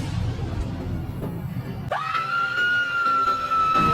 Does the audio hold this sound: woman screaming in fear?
yes